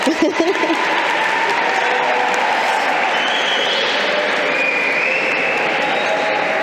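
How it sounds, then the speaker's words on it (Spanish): Audience applause at a library author event, a loud dense clapping that swells up quickly and holds steady for several seconds, with a hint of crowd murmur underneath. "un aplauso"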